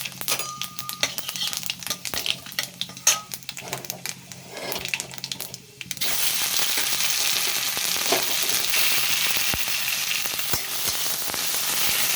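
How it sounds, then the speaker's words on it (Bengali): Potato filling for aloo paratha frying in hot oil with dried red chillies and nigella seeds, a steady loud sizzle that swells after a quieter start with clinks of utensils. "এখানে দেখো আলুর পরোটার জন্য আলুর পুরটা ভেজে নিচ্ছি"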